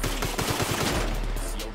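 Dense, rapid gunfire from Grand Theft Auto V, loud and nearly continuous for under two seconds, with automatic bursts running together and a low rumble beneath.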